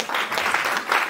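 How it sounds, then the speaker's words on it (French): Audience applause in a hall after a talk, a short burst of close, lively clapping that stays even throughout, with no voices. "Applaudissez-le."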